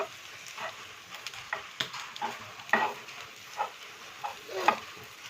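Prawn fry sizzling in a pan as it is stirred, with repeated scraping and clattering strokes of a spoon over a constant frying hiss, close and fairly loud.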